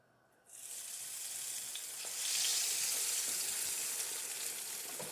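Battered green tomato slices hit hot oil in a frying pan, a dense steady sizzle that swells loud after the first half second and holds with no voices.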